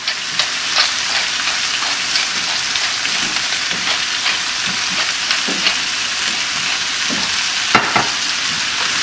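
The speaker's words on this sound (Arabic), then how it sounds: "انا دا قلي البصل خليته مع الثوم الاول، بعدين ضفت له الفليفله الخضراء والحمراء" Onions, garlic and green and red peppers fry and get stirred in a pan for a Turkish imam bayıldı dish, with a continuous close sizzle broken by scraping stirring strokes.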